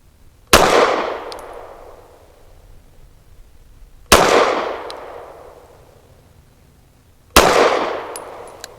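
Three loud, sharp gunshots from a BRG9 Elite Gen 2 9mm carbine firing Hornady Critical Duty rounds outdoors, spaced several seconds apart, each leaving a long ringing, decaying echo with quiet gaps between.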